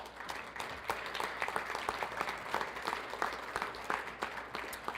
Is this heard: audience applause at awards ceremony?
yes